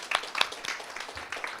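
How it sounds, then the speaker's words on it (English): Conference audience applauding presenters, a short stretch of scattered hand claps, moderately loud and close, with no talk over it. "a big applause to George and Flavio"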